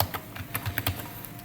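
Light tapping on a computer keyboard while entering a spreadsheet formula: a short, quiet burst of separate key presses in an uneven rhythm, heard alone without talk.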